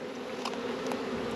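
Honey bees buzz at an open hive during a beekeeping inspection, a steady close drone with individual bees passing near, no talk.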